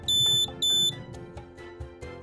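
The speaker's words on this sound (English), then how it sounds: "blue and red LEDs will flash and an audible alarm will trigger." A buddy lite portable blood and fluid warmer sounds its no-heat audible alarm: two loud, sustained high electronic beeps in quick succession, then quieter background noise.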